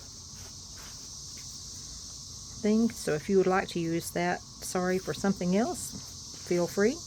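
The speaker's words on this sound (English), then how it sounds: "I have the door open so you can hear the katydids in the background" A steady high insect drone, katydids outdoors, comes faintly in through an open door and continues throughout. Someone talks close by over it for the second half.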